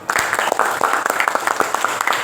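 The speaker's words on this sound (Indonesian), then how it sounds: "Tepuk tangan buat Dona" Students in a classroom clap for a classmate, a short burst of scattered, uneven handclaps from a small group close by, with some voices mixed in.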